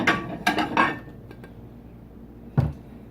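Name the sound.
shrimp po' boy roll being put on a plate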